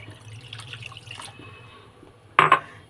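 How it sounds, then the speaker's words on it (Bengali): Milk poured into a pan on a lit gas stove for a custard and fruit pudding: a soft trickling splash followed by a brief louder slosh, close and without talk. "এবারে এই দুধটাকে আমি ঢেলে দেব।"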